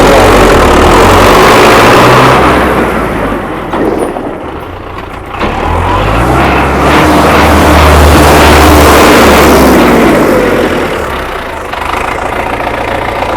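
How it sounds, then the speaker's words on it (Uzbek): A Belarus 82.1 tractor engine runs steadily at idle, a loud continuous diesel rumble that stays close and even throughout, with a slight dip in level partway through. "motor holatlari ham tekis holatda ishlab turibdi."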